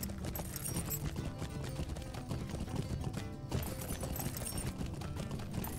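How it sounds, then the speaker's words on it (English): Horse hooves clip-clopping in the Lord of the Rings Online video game, a steady rapid clatter of several hoofbeats over a dense background of game music and ambience, with a brief dip midway. "That lady looked like she was having some troubles with her horse."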